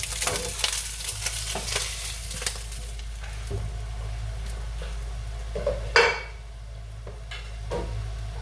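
Corned beef stirred into potatoes and onions frying in a pan, with steady sizzling under repeated scraping and clinking of a utensil against the pan and one louder clatter partway through.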